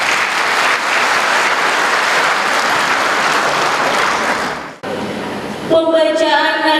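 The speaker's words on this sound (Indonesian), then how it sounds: "Boleh tepuk tangannya?" Audience at a graduation ceremony in a hotel ballroom applauds loudly and continuously for nearly five seconds, then the clapping cuts off and a brief tonal sound follows.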